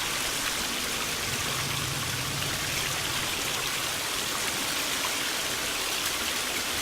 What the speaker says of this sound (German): Alter, das Wasser, das nervt, das ist so scheiße laut